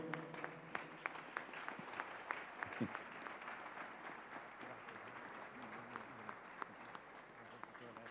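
A church congregation applauds steadily at low volume, the clapping sustained throughout with a voice speaking over it.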